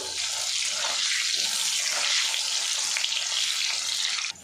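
Potatoes fry in hot oil in a pan, giving a steady, dense hiss that stays constant and fairly loud throughout and cuts off abruptly at the end, with no voices.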